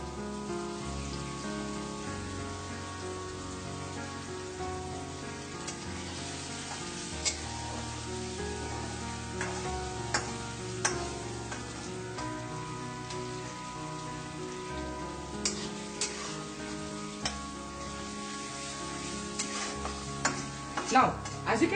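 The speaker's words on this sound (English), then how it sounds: "Fry the onions until it becomes slightly" Onions fry in a pan with a continuous crackling sizzle, broken by frequent scraping and clinking as a utensil stirs them, close and steady throughout with no talk.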